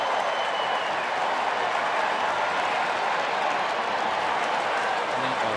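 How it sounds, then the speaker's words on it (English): A large night crowd at a Phillies at Braves baseball game in Atlanta applauds and cheers in a steady, dense wash of clapping and crowd noise that holds throughout without letting up. "Pretty good crowd here tonight."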